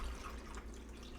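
Water pours steadily into a cold brew coffee container, a faint, continuous trickling and splashing close by with no talking.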